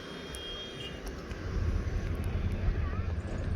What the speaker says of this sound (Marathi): परत आता फेरी बोटने आपल्याला जायचं आले बघा फेरी बोट